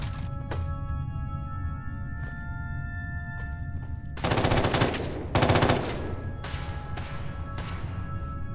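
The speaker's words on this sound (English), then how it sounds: "Who's firing there?" Video game gunfire: scattered single shots crack over a steady background, then two loud automatic bursts and more sporadic shots follow, close and sharp.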